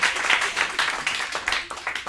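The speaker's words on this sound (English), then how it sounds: "you can clap for that." Audience applause at a live storytelling show, dense and steady clapping that fills the whole short stretch with a slight swell and dip.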